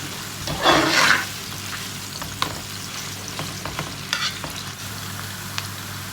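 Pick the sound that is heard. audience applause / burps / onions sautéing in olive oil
onions sautéing in olive oil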